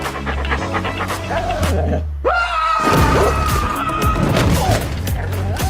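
A dog pants heavily and rapidly up close, with music, a brief thud and other background sounds mixed in.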